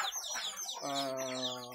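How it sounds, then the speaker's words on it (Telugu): Close country hens clucking and cackling, with a sustained harmonic squawk rising in the second half, no talk. "ఇవి మొత్తం వచ్చేసి ప్యూర్ నాటుకోళ్ళు అండి"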